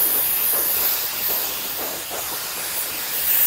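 Hair dryer without a nozzle blows on hair during a barber's mid taper fade mullet cut, a loud steady broadband rush of air with slight swells in strength, close and without talk.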